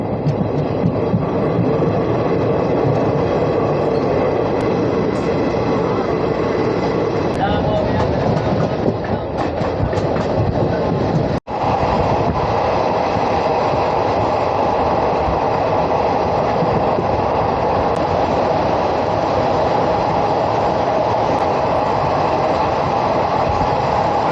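A Chalukya Express train between Hubballi and Belagavi rumbles steadily along the tracks for the whole stretch, loud and close, with a brief dropout midway and faint rhythmic clatter.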